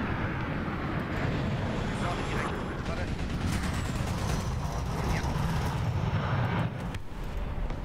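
Inside a War Thunder tank battle, a loud continuous engine and combat rumble fills the scene, a drone aircraft droning overhead amid booming explosions and gunfire, while a player talks over the noise.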